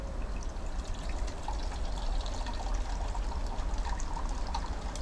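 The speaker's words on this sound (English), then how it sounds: "And fill this up with, I don't know, just enough water to make a nice cup of tea." Water poured from a container into a metal canteen cup to make tea on a bushcraft camp stove, a steady close trickling pour lasting several seconds with no talking.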